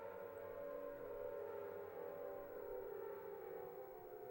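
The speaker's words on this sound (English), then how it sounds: "And you hear the sirens again." A steady, droning siren-like tone from the game Silent Hill holds throughout, sustained and fairly loud with a slight wavering, no voices present.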